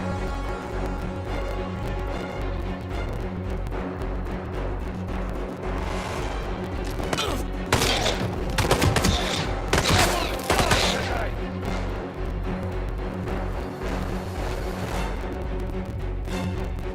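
Gunfire crackles through a firefight in the Hitman video game, a steady bed of shots that grows into denser, louder volleys midway before easing back.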